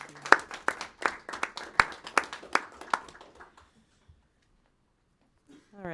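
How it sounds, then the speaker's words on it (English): Small group clapping at a city council meeting, a burst of a dozen or so distinct claps that thins out and stops after about three seconds, followed by near silence and a faint voice at the end. "you guys deserve a big round of applause"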